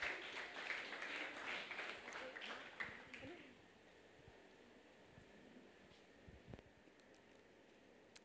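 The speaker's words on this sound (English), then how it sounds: "Please give him a round of applause." Audience at a 2009 IBS schools debate applauds, a dense burst of clapping for about three seconds that then fades out, leaving quiet room tone.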